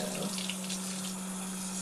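Water from a tap runs steadily onto a Crayola Scribble Scrubbies toy being washed, a constant close splashing stream with no voices.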